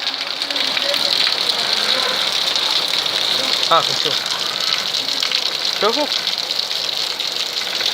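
Heavy rain pours and gushes over a street in Sadr City, a steady loud wash of falling and running water throughout, with someone talking over it and a couple of short, rising whistle-like sounds in the middle.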